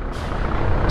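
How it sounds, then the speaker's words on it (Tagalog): A large truck rumbles past on a street in Tondo, Manila, at night. The engine noise is loud and steady, with a brief hiss near the end. "lalaki ng mga truck dito"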